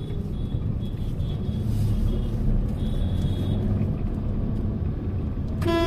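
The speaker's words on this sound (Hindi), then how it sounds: "और इसी वजह से इतना ट्रैफिक हो जाता है।" Steady low road rumble of slow traffic on a crowded street shared with cows and buffaloes, with faint engine hum and a brief higher clatter near the end, no voices.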